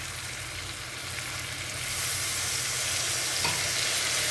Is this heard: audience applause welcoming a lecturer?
no